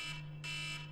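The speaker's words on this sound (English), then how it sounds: "That's my alarm. I'm up early." A phone or clock alarm rings with a steady electronic tone that pulses in two bursts under a constant hum, moderately quiet, with no voices.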